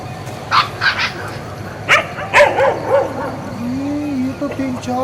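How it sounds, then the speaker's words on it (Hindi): Several dogs outdoors bark and yip in a cluster of sharp, fairly close calls, followed by a rising whine, with a low steady background hum. "ओहो, इतने कुत्ते यार, ये खा क्या रहे हैं?"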